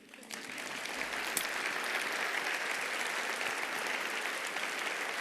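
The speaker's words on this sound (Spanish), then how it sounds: "yo les pido que le demos un aplauso a Tales" Applause from a TEDx talk audience swells quickly into a thick, even roar of clapping that holds steady, heard from some distance in a large hall.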